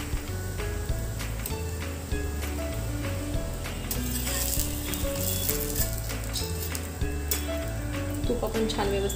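A potato-stuffed Punjabi paratha fries in ghee on a hot griddle, giving a steady close sizzle under background music with a voice talking over it.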